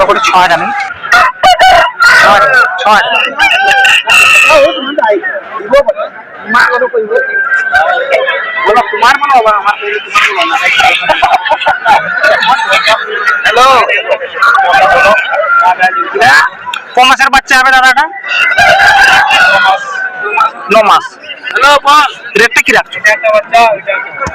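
Roosters crow again and again at a busy chicken market, close and loud, amid clucking fowl and a constant babble of people talking.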